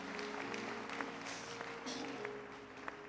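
A church congregation applauding at a harvest service, a steady wash of clapping from many hands at moderate distance, faint and continuous throughout.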